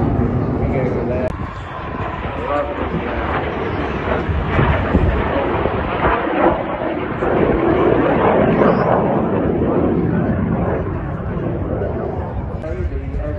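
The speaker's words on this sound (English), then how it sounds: "The aircraft using sustainable aviation fuel" At the 2022 Wales National Air Show, an aircraft flying a display run on sustainable aviation fuel gives a loud, sustained, rumbling roar that swells and fades slightly over the span.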